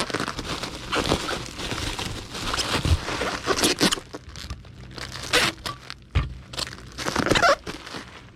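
Packing tape ripping off the roll and pressed onto a cardboard eBay shipping box holding a bubble-wrapped platter, loud close crackling pulls and tearing in quick irregular bursts, with rubbing and handling noise between strokes.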